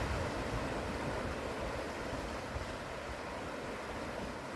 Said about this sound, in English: It's a windy one.